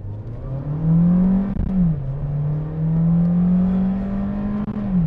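A Skoda Slavia sedan accelerating hard from inside the cabin, a steady loud engine drone that rises in pitch, dips at a gear change, then climbs again, with no voices over it.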